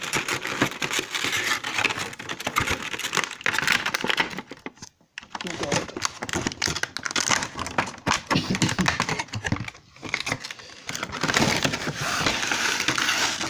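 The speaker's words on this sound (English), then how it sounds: "let's try and unbox this" Someone opens the packaging of a God of War limited edition DualShock 4 controller one-handed. Dense, close crinkling, scraping and tapping of the box and plastic goes on almost continuously, broken by brief pauses.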